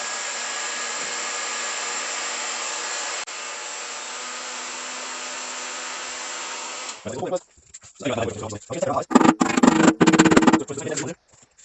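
A heat gun blows steadily on a dented Kawasaki Ninja motorcycle body panel, a broad even hiss held for about seven seconds, then cut to choppy bursts of noise and handling sounds.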